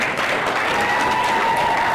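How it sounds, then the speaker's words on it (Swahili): Sustained applause from an audience, dense and loud clapping throughout, with a faint tone running underneath. "makofi afadhali"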